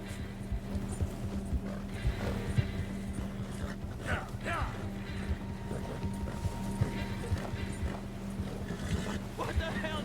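A horse in Red Dead Redemption 2 gives rhythmic clip-clopping hooves and a clear whinny partway through, with a person talking over the game sounds and a faint wind or water backdrop.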